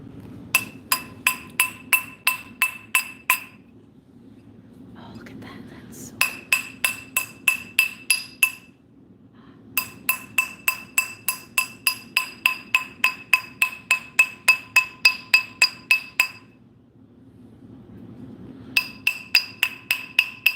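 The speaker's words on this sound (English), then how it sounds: "I'm gonna use a ball peen hammer, and we're just gonna kind of hit it" A ball peen hammer strikes a pure silver ring on a steel ring sizer in steady, rapid metallic taps with a bright ringing tone. The taps come in several bursts separated by short pauses, loud and close over a low background hum.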